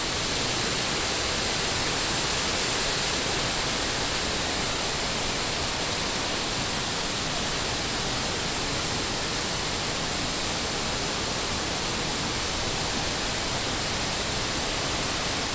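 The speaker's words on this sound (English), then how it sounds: "the brook dumps out of this little pond over here" A small brook flows out of a low pond in a wooded Rhode Island management area in early October, a steady broadband rushing of water, loud and unbroken.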